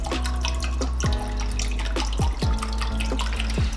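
Water being poured into a pot for cooking chicken, with a steady close splashing stream and repeated rising gurgles as the vessel fills, with no talk over it.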